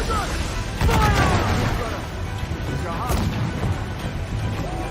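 Ship cannons in the Assassin's Creed 4 Black Flag naval battle game fire in heavy booming bursts, one large blast near the one-second mark, over a loud dense rumble with voices shouting.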